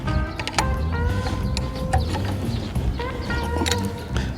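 A bolt and its lock nut being wrenched tight on a tiller's ridge-forming mulcher attachment, giving repeated close ratcheting clicks and light metal knocks in a steady rhythm, with no talking.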